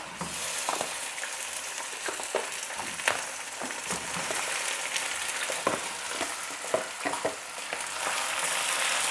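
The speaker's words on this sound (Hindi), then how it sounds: "और मीडियम टू स्लो हीट में हम इसको अच्छी तरह से फ्राई करेंगे" Chicken cut for korma frying in a pot with burnt onions over medium to low heat, a steady loud sizzle throughout, with scattered scraping and stirring clicks close by and no talk.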